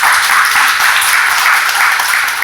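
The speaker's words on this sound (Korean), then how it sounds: "감사의 박수 부탁드립니다." Audience applause for author Ko Young-hoon at a marketing talk, a steady, dense wash of clapping sustained throughout without pause.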